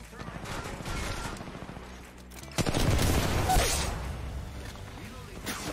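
Gunfire in the mobile battle royale Apex Legends Mobile, a loud burst of shots kicking in midway over a busy in-game mix, with a player talking throughout.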